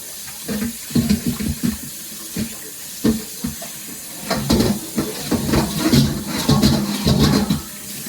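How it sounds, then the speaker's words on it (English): Running tap water splashes into a kitchen sink while a bowl is rinsed under it, with bursts of splashing and clatter coming and going, close and fairly loud with no talk. "I'm gonna wash this bowl."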